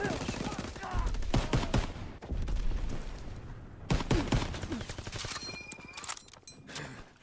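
Bursts of WWII rifle and weapon fire in a Call of Duty multiplayer match, rapid cracking shots layered with game effects, steady and fairly dense throughout, with a voice talking over parts of it.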